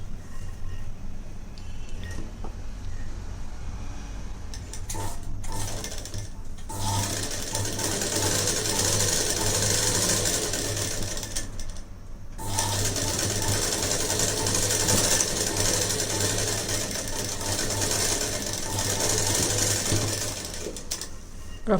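A sewing machine stitches a big-size blouse, running in a steady, close mechanical whir that stops briefly twice before starting up again, with no voices.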